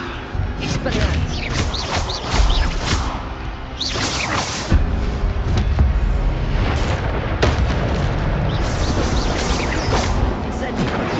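Spell-casting effects in the video game Hogwarts Legacy: loud bursts, booms and whooshes fire repeatedly in quick succession over a rumbling battle backdrop, with a voice shouting between the blasts.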